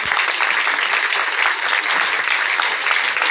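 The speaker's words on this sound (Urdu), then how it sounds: "تمام میری بہنیں جو ہیں ایک بار ڈاکٹر صاحب کے لیے زور سے تالیاں بجائیں" A crowd of women at an event honouring a doctor applauds loudly and continuously, a dense close wash of clapping sustained throughout without pause.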